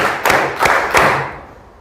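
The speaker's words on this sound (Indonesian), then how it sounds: "Sekarang tepuk 1, tepuk 2, tepuk 3, tepuk 4" A class claps hands together in counted unison, three loud, crisp group claps spaced evenly about a third of a second apart, then fading into room ambience.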